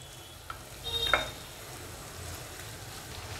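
Paneer bhurji with coriander leaves being stirred in a pan, a faint low sizzle with a single brief scrape of a utensil about a second in, quiet and without talk.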